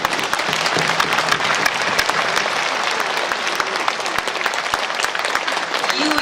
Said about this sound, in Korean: 여러분 박수 한 번만 보내주세요.